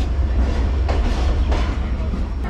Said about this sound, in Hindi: सामने 48 डाउन रहमान बाबा एक्सप्रेस अरावल कर रही है कराची कैंट रेलवे स्टेशन पे।